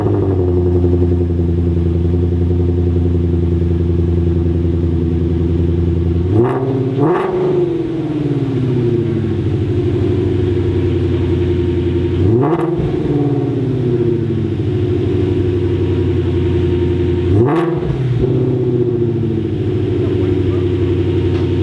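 A car fitted with an ARH full exhaust idles with a deep steady burble, blipped into three short sharp revs spaced several seconds apart, close and loud.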